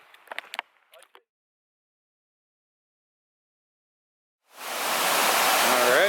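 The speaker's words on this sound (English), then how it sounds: "I know the water's probably loud. Gorgeous little waterfall though." Crow Meadow Falls, a small waterfall, roars loud and close after a short silence, a dense steady rush that starts abruptly and fills the end, following a few brief knocks and rustles at the start.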